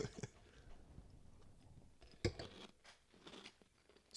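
Crunchy Cinnamon Toast Crunch cereal with milk is chewed close up in soft, irregular crunching bites, faint and with no talk over it.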